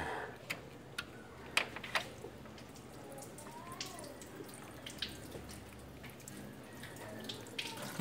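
Coolant drains from the radiator drain plug of a 2011 Toyota Altis in a steady, faint watery trickle, with occasional drip-like ticks over a low hum.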